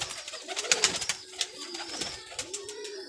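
Pigeons of a new breeding pair, including Mamdin, Tidy and Golden birds, coo and call repeatedly close by in a loft, with soft wing flutters and short bursts overlapping through the whole stretch.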